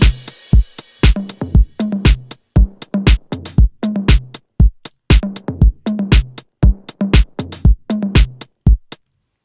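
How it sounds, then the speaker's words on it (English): Deep house drum pattern built from classic drum machine emulations, including an 808 kit: punchy kicks and crisp hits in a steady, loud, dry loop with short gaps between beats, no voices. "you can hear automatically that I used a lot of classic drum machines emulations"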